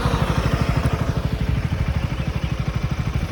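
A KTM Duke 200 motorcycle engine thumps in a steady rapid rhythm, close and fairly loud, holding an even pulse throughout without speech.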